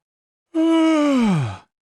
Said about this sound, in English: So I'm yawning. I'm blowing all this breath out.